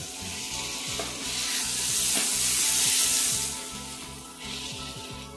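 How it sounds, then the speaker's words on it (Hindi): Small pieces of paneer are stir-fried in ghee for bhurji: a loud, continuous sizzle with a regular rhythm of spatula scrapes against the pan, and no talking. "तो अब हमने जो पनीर के टुकड़े कट करके रखे थे छोटे छोटे वो इसमें डाल देंगे।"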